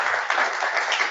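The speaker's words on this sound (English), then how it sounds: "an applause to them if we can" A brief burst of steady applause from a crowd, many hands clapping together at an even, fairly loud level.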